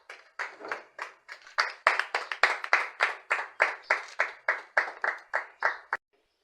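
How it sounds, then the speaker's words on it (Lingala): Audience applause at an awards ceremony, a steady burst of many hands clapping in a quick, even rhythm for about six seconds before stopping abruptly. "Tous vos applaudissements."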